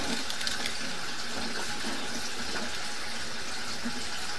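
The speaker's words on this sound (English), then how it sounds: "we've turned a little sink on here downstairs" A small sink tap turned on downstairs in a house during a sewer line inspection, giving a steady broadband rush of running water that continues unbroken throughout.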